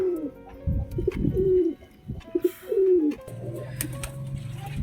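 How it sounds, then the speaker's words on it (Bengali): Pigeons coo during a bath, giving several distinct, fairly close coos spaced a second or so apart over a low, rumbling background. "কবুতরগুলোকে এখন একটু চান করাবো ভাবছি, সেই চান করানোর ভিডিওটা দেখাচ্ছি তোমাদের"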